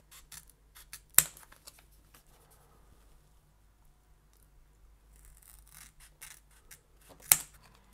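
Scissors snip through thin polarizer film for a Game Boy Pocket backlight, with two sharp cuts standing out among quieter rubbing and rustling at close range.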